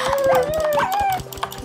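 Dogs in the video game Minecraft yelping and whimpering in quick, overlapping bursts, loud and close, with a faint rhythmic background layer underneath.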